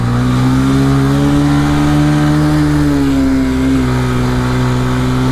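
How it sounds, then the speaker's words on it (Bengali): A motorcycle engine labours in second gear up a steep hill road toward Bandarban, a loud, continuous, strained drone whose pitch holds steady and sags slightly near the end, with no voices. "ইঞ্জিনের প্রচুর স্ট্রাগল হচ্ছে"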